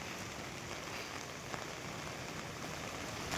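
Heavy rain falling steadily on surfaces during a monsoon downpour in Adirampattinam, a dense, even hiss of drops with no voices.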